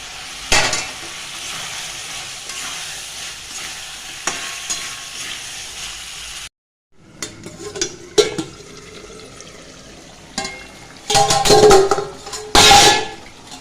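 Boiled papaya and potato tipped into hot spiced oil in a pan, giving a loud steady sizzle with stirring scrapes, a short silent gap, then bursts of sizzling and clatter as the frying continues.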